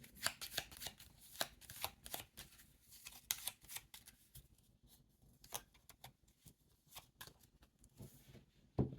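Cards for the Imperium board game shuffled close up in quick crisp riffles and flicks, an irregular patter of snaps that thins out midway, then picks up again.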